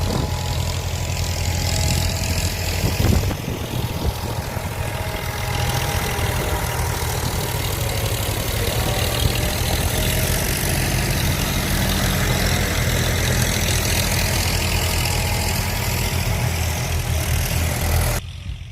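A tractor engine runs in a field, a loud, continuous low rumble with a steady chugging throb that keeps going for nearly twenty seconds before cutting off abruptly at the end.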